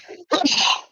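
A single loud, close sneeze with a short breathy intake before the sharp burst.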